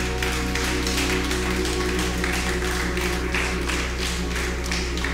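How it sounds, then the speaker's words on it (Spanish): A church congregation claps together in a steady, dense rhythm that runs throughout, mixed with sustained music underneath. "Dale ese aplauso al Rey."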